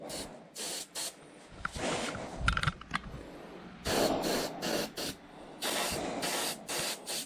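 A spray gun coats the tail of a SWM Sierra-2 aircraft in a series of short, close hissing bursts separated by brief pauses, with faint clicks and handling noise between passes.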